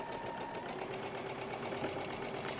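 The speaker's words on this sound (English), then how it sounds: "So I'm just going to stitch this together." A sewing machine stitches quilt strips together with a fast, even mechanical rattle of the needle, steady and close throughout with no talking.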